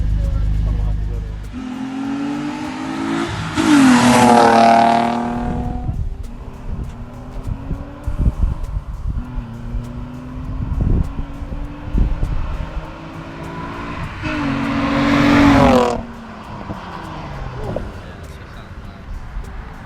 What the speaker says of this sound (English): So we got the exhaust all installed. You guys heard the sound clips